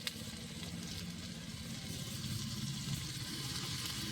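A ground paste of cumin, green chilli and dried red chilli fries in a pan with a dense, even sizzle held close and steady for a few seconds, no voices over it.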